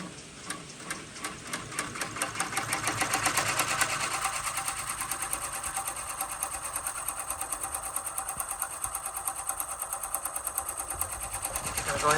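A multi-needle embroidery machine stitches a design onto a hoodie, giving a steady, rapid mechanical chatter with a fast even rhythm close to the mic, running continuously throughout with light background noise.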